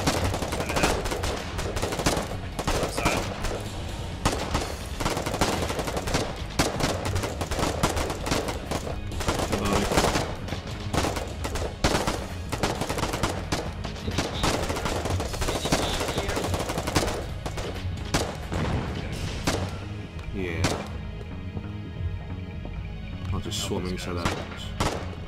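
Sustained gunfire from the video game Foxhole, dense bursts of rapid shots and heavier booms rolling on through most of the stretch, loud and continuous, easing off toward the end.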